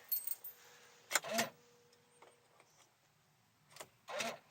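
Car key jangling in the ignition of a Mercedes GLK, a few short metallic clinking bursts with quiet pauses between them, close and fairly faint, with no talking.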